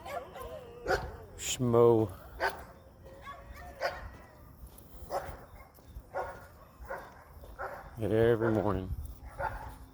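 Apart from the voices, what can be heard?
dogs barking at a passer-by on a walk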